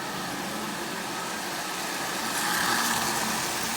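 A Marx 595 toy army train, repainted olive drab and built from old junk cars, runs steadily on its track with a constant buzzing motor hum and rattling wheels, close up and fairly quiet, growing slightly louder near the end.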